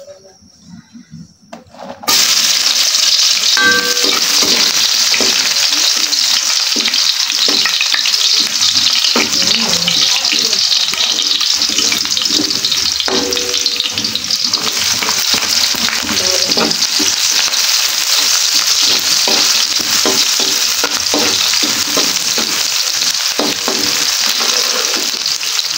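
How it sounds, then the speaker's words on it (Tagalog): Garlic and onion sautéing for pancit at a farm birthday gathering, a loud, steady sizzle that bursts in after a quiet first two seconds, with occasional stirring scrapes throughout and no talk. "Gisa na tayo ng bawang sibuyas."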